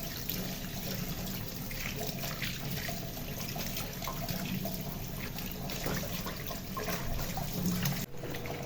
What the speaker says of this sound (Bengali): তারপর লাউ পাতাগুলোকে এভাবে ধুয়ে নিলাম।